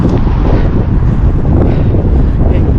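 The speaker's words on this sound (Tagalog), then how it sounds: "Pero yung hangin grabe. Ang lakas." Strong wind blasts across the microphone outdoors on a cold Saturday morning solo bike ride in Northern Ireland, a loud, unbroken roaring buffet throughout.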